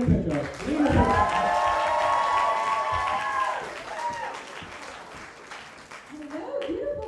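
An audience at a student comedy show claps and cheers loudly and steadily for about six seconds, with some whoops over the applause, before it thins out and a performer begins to speak.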